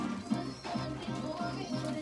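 Pigeons in a loft giving soft, repeated low coos in a rolling rhythm, faint and close, over quiet background noise.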